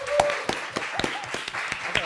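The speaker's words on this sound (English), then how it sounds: "So please, a round of applause for our panelists." Audience applause for a panel at an event on affordable housing and loneliness in aging, heard as a steady patter of clapping with some louder individual claps and faint voices mixed in.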